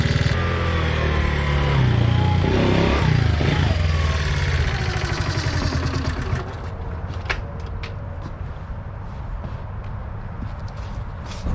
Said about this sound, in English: Sounds like I got a little valve tap